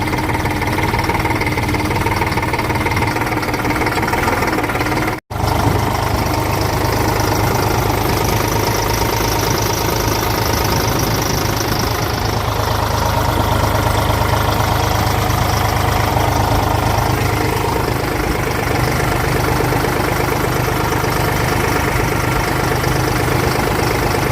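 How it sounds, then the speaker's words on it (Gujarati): A tractor engine idles steadily and loud with its attached shovel running, a continuous low rumble with a knocking throb that barely pauses for an instant near the start. "પાવડો ચાલુ કરી દીધો ટ્રેક્ટરનો"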